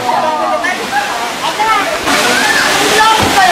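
Twin Falls in Kalayaan, Laguna, roars with a steady, dense rush of falling water close by, while a person talks over it throughout.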